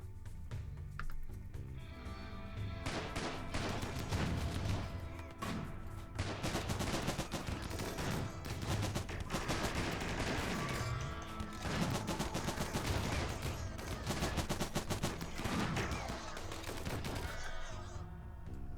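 Rapid gunfire in RimWorld, the colony sim, with dense bursts of shots rattling loudly and continuously for the whole stretch, almost no gaps between volleys.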